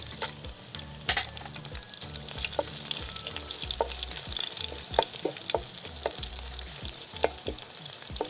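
Dry red chillies and garlic sizzle in hot oil for a coconut sambar, a steady close frying hiss broken by repeated scraping stirs of a spoon against the pan.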